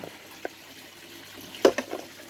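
Water drains from an upside-down glass test tube lifted out of an aquaponics tank, giving a few soft splashes and a brief gurgling pour near the end over a quiet pump background.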